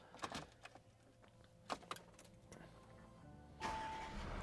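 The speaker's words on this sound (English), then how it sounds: "I'll just start the car up, it's all keyless." A few soft clicks and clunks, then a 2021 Audi Q7 3.0 diesel engine cranks via keyless start and catches near the end, settling into a steady low idle, heard close and quiet.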